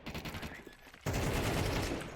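Gunfire in a first-person shooter game on a competitive Premier server: a burst of dense, loud shots erupting abruptly midway after quieter game ambience.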